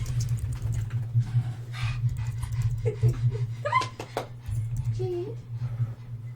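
A dog pants steadily and whimpers with short, high yips close to the microphone, while people keep talking over it and a low electrical hum sits underneath.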